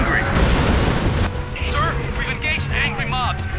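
Explosion from a launched attack in Command & Conquer Generals, a heavy rumbling boom that decays over about a second, followed by scattered smaller blasts and whistling tones under busy battle noise.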